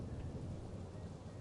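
A thunderstorm in Life is Strange Double Exposure rumbles as a dense, steady roar of rain and low thunder, with no voices.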